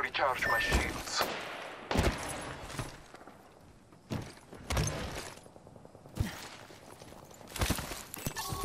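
Gunfire in the battle royale video game Apex Legends: sharp shots burst out in irregular clusters over a busy game soundscape with footstep-like clatter, loud and close.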